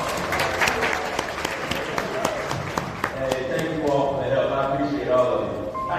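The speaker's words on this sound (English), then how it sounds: "let's give them a big round of applause" A crowd at an indoor Peabody Ducks march event breaks into sustained applause, steady scattered clapping throughout with a few voices mixed in.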